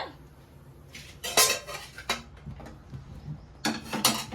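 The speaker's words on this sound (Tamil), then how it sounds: "ஒரு குழம்பு பாத்திரத்தை மேலே வச்சிருக்கேன்" Metal pots and utensils clatter and clink in a few sharp bursts in a kitchen making chicken gravy, a gravy pot set down on the stove with scraping knocks, close by and without talk.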